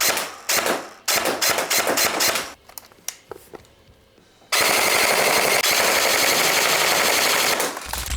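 Rapid bursts from a G&G CM16 LMG Stealth airsoft light machine gun crackle in quick rattling strings, pausing with scattered single shots, then a long sustained burst near and loud.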